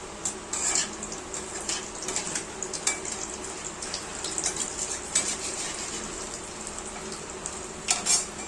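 Paneer koftas fry in hot oil in a wok, a continuous close sizzle broken by metal utensil clinks and stirring scrapes.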